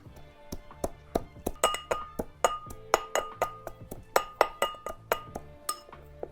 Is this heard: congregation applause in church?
no